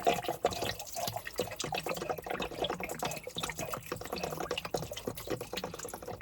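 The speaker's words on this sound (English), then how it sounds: "There we go, let the water pour out here." Water pours and trickles out of a boat engine while its impeller is being replaced, a steady splashing flow that runs close and moderately loud for the whole stretch with no talking.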